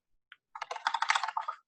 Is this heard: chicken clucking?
no